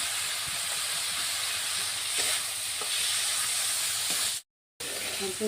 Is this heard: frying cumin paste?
yes